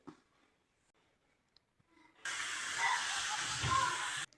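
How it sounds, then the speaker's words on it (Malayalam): Quiet rustling gives way to a sudden loud, steady hiss of chopped onions frying in a cup of hot oil that continues for a couple of seconds before cutting off. "അരിഞ്ഞിരിക്കുന്ന കുറച്ച് ഉള്ളി എടുത്ത് വറുത്തെടുക്കാം"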